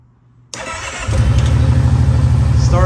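A 2019 Kawasaki Brute Force ATV engine cranks and catches after a short quiet pause, then settles into a loud, steady idle rumble close by.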